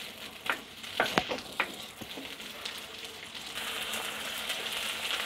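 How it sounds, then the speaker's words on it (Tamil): Small onions fry steadily until golden, with several sharp stirring clicks and scrapes early on over a constant close sizzle. "நல்லா பொன்னிறமாக வறுத்தெடுக்கணுங்க. வெங்காயம் வதங்குறது தான் இதில் டேஸ்ட்டு."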